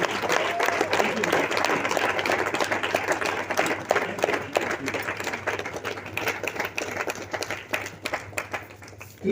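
A large seated audience gives sustained applause, a dense, steady roar of many hands clapping that continues for about nine seconds and gradually thins toward the end.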